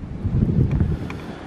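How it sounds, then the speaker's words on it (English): Low, steady wind rumbling against the microphone, a continuous buffeting roar with no voices. "And this morning, it's cold and windy."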